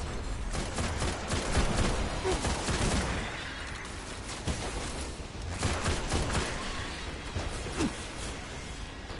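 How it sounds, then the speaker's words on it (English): Dense, continuous gunfire crackles throughout a firefight in the video game Destiny on Venus, with overlapping shots and impacts keeping a loud, busy texture from start to finish. "who's shooting me?"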